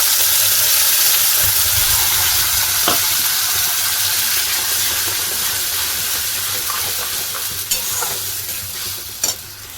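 Spice paste added to pointed gourd frying in a pan gives a loud, constant sizzle with stirring scrapes, the hiss easing slightly toward the end, with a few sharper clinks and no talking.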